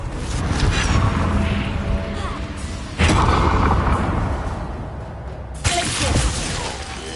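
Confringo explosive spell going off in Hogwarts Legacy, with a sharp shattering blast at about three seconds and another near the end over a constant loud roar of in-game action.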